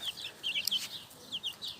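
Soft, low clucking from a broody hen, a few short chirpy bursts spaced irregularly, fairly quiet and close with no talking.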